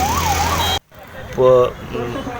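An ambulance siren wails in a rising and falling pattern beside a protest crowd, loud at first, then cut off abruptly, followed by a few brief horn-like tones in the noisy street.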